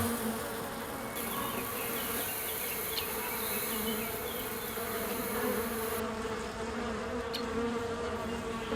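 Honeybees buzzing at a hive, a steady dense drone of many insects close by, continuous and fairly quiet, with no voices.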